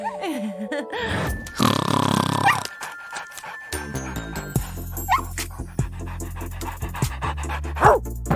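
A small dog freshly bathed, panting and snuffling close by in quick rhythmic bursts, with grunts and a brief whimper among other household sounds.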